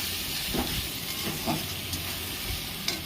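Ginger paste fries with mutton in a pan, giving a steady, close sizzle and hiss with a few faint pops.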